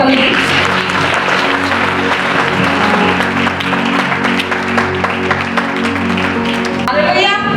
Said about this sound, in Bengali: আসুন প্রভুর জন্য একবার জোরে হাততালি।